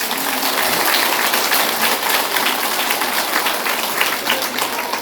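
A congregation at a Catholic retreat claps on a feast day, a steady, even wash of applause that keeps up throughout, with no speech over it.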